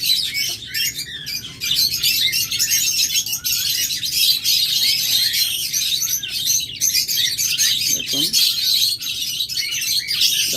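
A room of pet birds for sale, including lovebirds, budgerigars, ringnecks and Java sparrows, keeps up dense, steady chirping and twittering throughout, loud and close.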